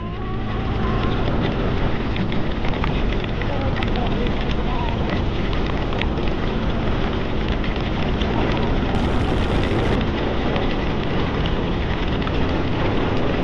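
Heavy rain pours steadily during a storm while riding a motorcycle, a loud, unbroken hiss and roar of water and wind that stays constant throughout, with no break in intensity.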